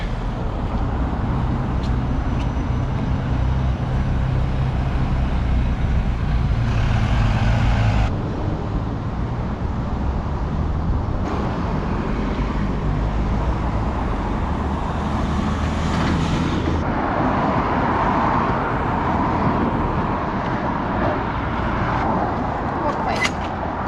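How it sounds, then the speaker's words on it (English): Loud street traffic in the Edinburgh suburbs: a steady, close roar of passing cars, buses and trucks that continues for the whole stretch, with engine swells rising and fading. "The traffic was all getting a wee bit too loud"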